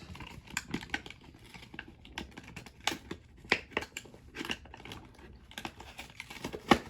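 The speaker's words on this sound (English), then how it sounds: "I'm just kind of trying to pry the plastic up with scissors." Sharp clicks and scraping snaps of plastic toy packaging being pried loose with scissors, irregular and close, with no talking.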